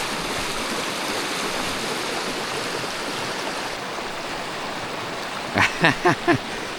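A creek flows in a steady, close rush of water, with a few short, sharp sounds near the end.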